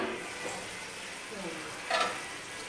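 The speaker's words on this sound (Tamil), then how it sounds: "மசாலா சேர்த்து நல்லா கொதிஞ்சிட்டு இருக்கு நல்லா எண்ணெயும் நல்லா பிரிஞ்சு வருது" A pot of thick masala gravy bubbling and simmering steadily, oil separating at the surface, with soft popping and sizzling, close by and moderately quiet, with a brief louder bubble burst near the end.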